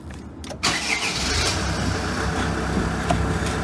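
A SsangYong Kyron 2.0 diesel engine cranks briefly, then catches and settles into a steady, close idle rumble after a short silent pause.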